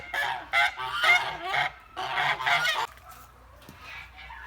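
A large Kholmogory goose honks loudly and repeatedly at close range, a run of harsh nasal calls followed by quieter background noise.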